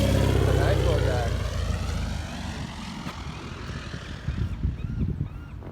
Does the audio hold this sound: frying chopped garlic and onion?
no